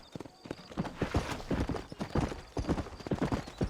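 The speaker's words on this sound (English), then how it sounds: "let's mount up and hit the trail" Horse hooves clip-clop in a steady, close rhythm as riders set off at a walk in the Western video game Red Dead Redemption, with a brief whinny and no speech.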